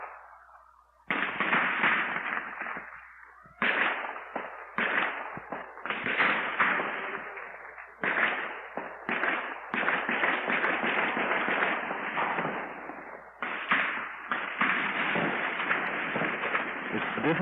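Sporadic gunfire crackles across the street from a hospital during the 1967 Newark riots, a long series of sharp, loud reports in irregular bursts and volleys, some overlapping, heard from fairly close.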